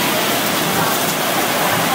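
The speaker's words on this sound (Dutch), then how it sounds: "maar het begint zo keihard te regenen" Heavy rain pours down in Hong Kong, a dense, loud, continuous hiss with no gaps over the whole stretch.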